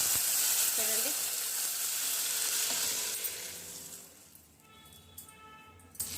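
Moong dal rasam boiling in a pot gives off a loud, steady bubbling hiss for several seconds, then settles into a quieter simmer with faint clinks toward the end.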